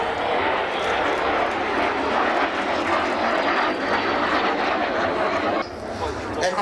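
A jet fighter flies past at the Scottish National Airshow at East Fortune. Its loud, steady broadband roar fills the whole clip without let-up, then dips slightly near the end.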